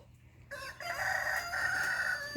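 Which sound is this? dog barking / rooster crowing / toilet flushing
rooster crowing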